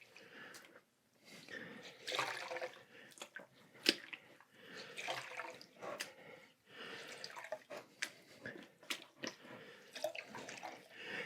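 Water from soaking reclaimed clay scraps being stirred and handled, with faint drips, sloshes and wet squelching in an irregular rhythm, close and quiet.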